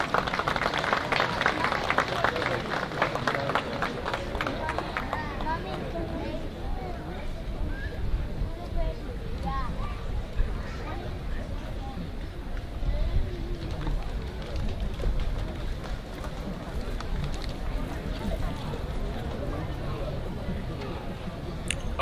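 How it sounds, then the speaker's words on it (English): An outdoor crowd at a July 4 naturalization ceremony at Mount Vernon applauds new citizens. The clapping is strongest at first, then fades into a busy open-air murmur with voices and background noise. "one more round of applause for our new fellow Americans"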